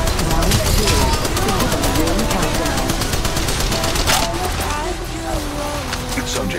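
Rapid automatic gunfire rattles continuously in the video game Apex Legends, loud and close, with a voice speaking over the shooting.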